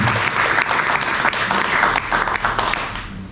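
Loud, sustained applause from an audience at a round-table discussion, steady throughout and tapering off slightly at the end, with faint murmuring underneath.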